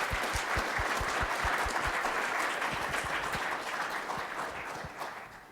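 Sustained audience applause from a crowd at a university energy-week lecture, dense clapping that stays steady and fairly loud before gradually thinning and fading near the end, with no talk over it.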